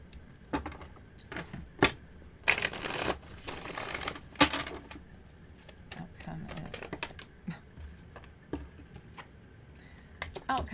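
Tarot cards being shuffled and handled at a table during a reading, with bursts of riffling around two to five seconds among lighter taps and rustles, close and moderately quiet.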